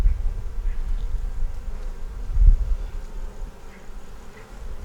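A crowd of honey bees hums around a marked queen inside an open hive, giving a close, steady buzzing drone with a low rumbling swell midway through.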